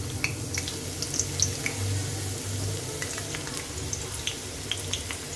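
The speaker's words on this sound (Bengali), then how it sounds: "এখন দিয়ে দিচ্ছি পেঁয়াজ।" Onions sizzle in hot oil in a wok, a steady low frying hiss with scattered small crackles and pops spread evenly across the moment, fairly close and without talk.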